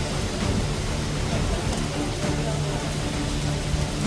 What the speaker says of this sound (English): The rain is out here bad and bossy and mean. The rain a blow.